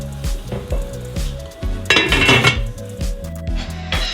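Seasoned meat with bay leaf and pepper browns in a pot as the lid goes on, steady sizzling under rhythmic metallic clanks and clinks of cookware, close and loud, with no talking.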